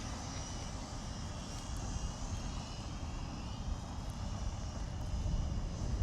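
An SHRC H6 Mevic Air quadcopter drone in flight, a continuous buzzing whine of small motors with a steady low rumble, holding constant at moderate distance throughout.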